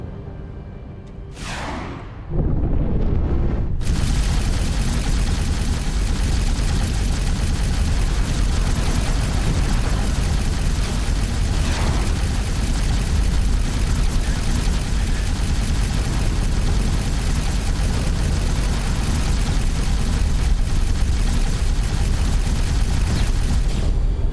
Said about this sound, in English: Explosion imminent. That fire coming from the battleship?